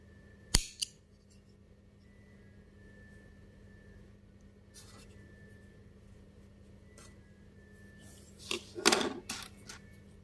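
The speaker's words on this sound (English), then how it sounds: "Let's try to snip." Small scissors from a crochet and knitting tool kit snipping crochet yarn: one sharp close snip, then quiet, then a cluster of clicks and snips near the end.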